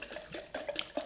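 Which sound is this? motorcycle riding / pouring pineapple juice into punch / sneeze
pouring pineapple juice into punch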